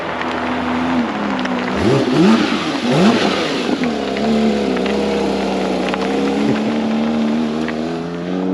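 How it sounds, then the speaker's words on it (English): A Porsche GT3 RS cold-starts and revs, loud and close, with rising and falling blips of the engine early on before it settles into a high, steady idle drone. "I can hear Serge just started his car up because a cold start on a GT3 RS is pretty loud"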